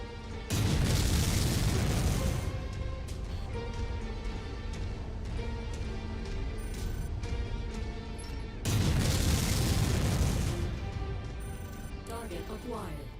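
Rockets fired from far off explode in a MechWarrior battle, two big booming bursts roughly eight seconds apart, with a dense rumbling wash of combat noise filling the gap between them.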